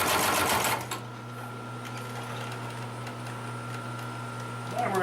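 A Consew 733R-5 industrial sewing machine stitches through several stacked layers of material in a steady, continuous mechanical hum and whir. A short burst of louder activity opens the run, and the motor tone holds even and close throughout.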